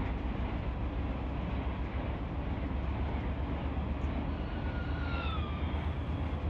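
A long grain unit train of hopper cars rolls past in Run 8 Train Simulator, a steady loud rumble of wheels and cars with faint high squeals toward the end.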